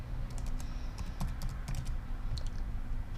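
Rapid clicks of a computer keyboard come close and clear at a steady typing pace, over a low background hum.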